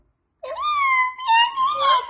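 A voice imitates a cat's meow with a drawn-out, wavering wail that rises and falls over about two seconds, close and fairly loud, with no other talk.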